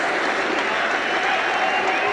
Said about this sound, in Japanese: アンディに対するこの拍手、